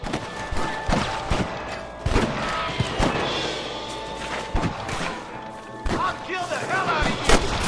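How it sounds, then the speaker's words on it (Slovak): Gunfire in Red Dead Redemption on PS5 comes as repeated sharp, booming shots at irregular intervals over a dense game soundscape, with people talking at times. "všetkých strieľam ja"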